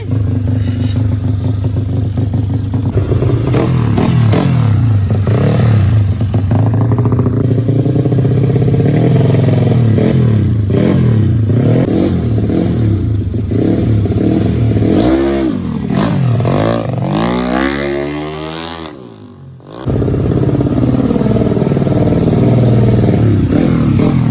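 A modified Honda Scoopy scooter engine with a 58.5 mm bore and stroke-up build revs hard and loud, rising and falling in pitch over and over, with a brief drop-off near the end before roaring back.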